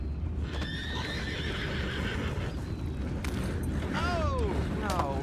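Horses whinny and neigh several times in Red Dead Redemption 2 over a constant low rumble and faint clopping, with a busy game-like background throughout.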